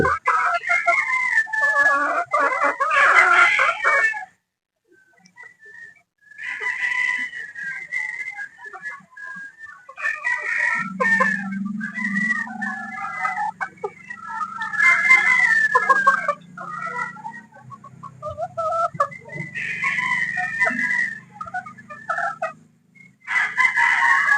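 Broodstag game fowl roosters crowing repeatedly, loud shrill calls with clucking between, close and outdoors, with a low hum in the middle stretch and little speech.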